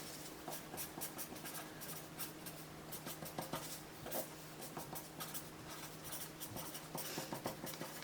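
Pen scratching across a sheet of paper while someone writes out a short flow of words and arrows, a steady close scritching with irregular strokes and small taps, set against a faint constant room hum.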